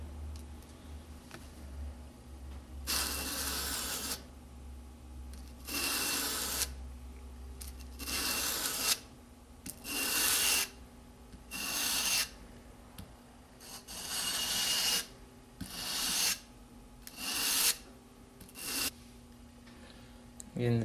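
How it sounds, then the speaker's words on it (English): A convex knife edge is stroked across sandpaper while a slight secondary bevel is sharpened, with about eight regular, close scraping passes following a quieter start, and a voice speaking softly underneath. "I've sharpened a slight secondary all along this edge."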